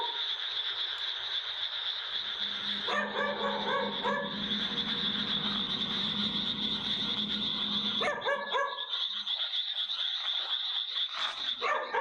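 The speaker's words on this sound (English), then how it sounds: "he decides to film as he searches for the barking dog" A dog barks in repeated short bursts in a graveyard at night, set against a constant high-pitched hum of insects or frogs, with long quiet gaps between the volleys of barks.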